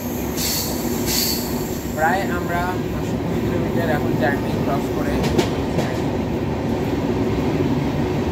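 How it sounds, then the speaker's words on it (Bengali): A Kriya Yoga Express passenger train on the Howrah to Ranchi route runs on rails at moderate speed, with continuous rumbling, rattling and wheel squeal heard from inside the carriage while someone talks over it. "ট্রেন এখন প্রায় স্পিড বলতে পারো 50 থেকে 60-এর মধ্যে রয়েছে।"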